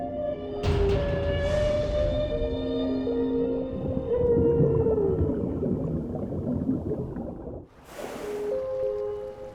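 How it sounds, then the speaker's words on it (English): A male humpback whale sings underwater, long moaning tones and rising, sliding cries layered over a low watery rumble, with a couple of sharp broadband bursts breaking in. "His complex and haunting song can be heard for miles underwater."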